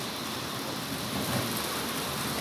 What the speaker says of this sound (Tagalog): Oh, lakas ulan, no?